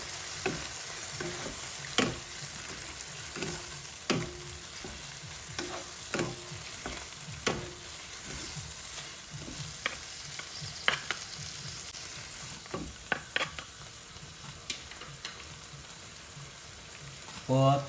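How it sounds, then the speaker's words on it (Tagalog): Pork and shrimp sautéing with radish in a home-kitchen pan, a steady low sizzle broken by repeated sharp clinks and scrapes of stirring at irregular intervals, fairly close and moderately loud, with no talking. "Then saute it."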